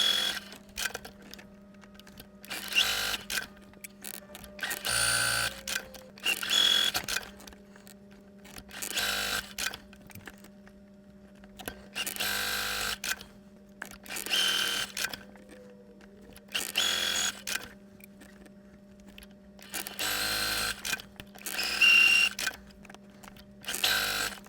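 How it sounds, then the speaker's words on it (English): A sewing machine stitches quilt squares in repeated bursts of whirring, roughly ten runs separated by short pauses, close and steady over a constant low hum, with no talking. "Now we can take these over to the sewing machine."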